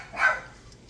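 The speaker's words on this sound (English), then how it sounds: "I'd have to figure out what he's barking at" A single short dog bark, sharp and fairly close, followed by quiet.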